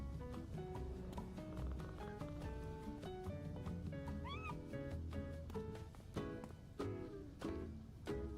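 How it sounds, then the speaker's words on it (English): Cats in the video game PowerWash Simulator 2 meow several times, faint and scattered, over a busy musical background with plucked and percussive notes. "let's pet the kitties"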